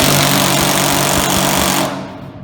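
An Einhell TE CI 18 Li cordless impact driver hammers a bolt tight in a loud, continuous rattling burst that runs for almost two seconds before stopping abruptly, very close and with no voices.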